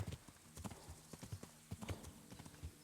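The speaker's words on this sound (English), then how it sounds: "I'll say my horse's stamina is holding up well. I've been galloping this whole distance through." Horse hooves pound rhythmically in the medieval video game Kingdom Come: Deliverance as the mount gallops across open country, steady and fairly quiet, with no voices.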